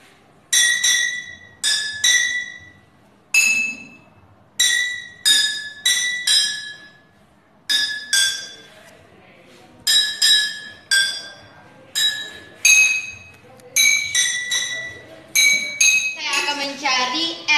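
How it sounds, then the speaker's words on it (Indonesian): Water-filled glass bottles struck one at a time to play a simple children's melody, each tap ringing bright and clinking before decaying, in a steady rhythmic sequence during a school physics practical on open organ pipes. "kami akan menguji nada-nada yang dihasilkan oleh botol atau pipa organa terbuka ini. Kami akan memainkan lagu Lihat Kebunku."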